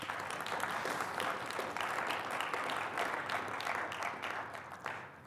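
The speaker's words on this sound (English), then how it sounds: "you can clap now" A conference audience applauds a technical talk on YAML tooling, giving a continuous mid-level patter of many hands that holds steady and fades slightly at the end, with no talking.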